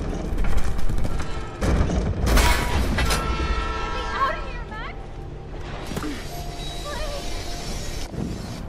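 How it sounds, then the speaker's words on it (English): Approaching train in the video game Life Is Strange: a rumbling rail noise with a rising horn toot midway. Game dialogue and voices play over it throughout. "The train's coming."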